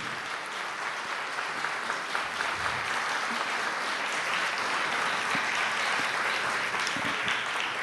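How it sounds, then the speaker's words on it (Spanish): Sustained audience applause at a talk event in Miraflores honouring chef Gastón Acurio, a dense, steady wash of many hands clapping throughout with no voices over it. "Fuerte el aplauso para Gastón Acurio"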